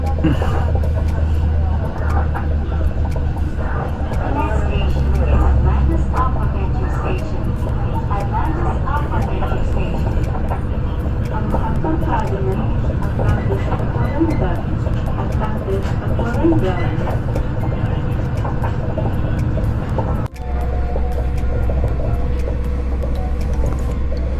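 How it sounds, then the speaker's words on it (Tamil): Steady low rumble and rattling hum of a moving train interior, heading to Atlantis on Palm Jumeirah, Dubai, continuous throughout, with a brief jolt near the end and faint background noise. "Again train ஏறிட்டோம்."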